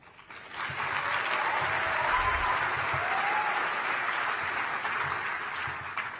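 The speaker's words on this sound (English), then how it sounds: "Yes, refugees do deserve an applaud." Sustained audience applause fills a plenary session hall at a policymakers' conference, a dense, steady wash of clapping from many hands that holds at full strength for several seconds and tapers only slightly at the end.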